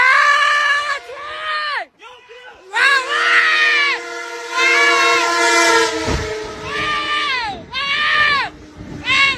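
A train horn blares in long, wavering harmonic blasts with short gaps, loud and close, alongside rumbling wheels and a brief burst of rail clatter.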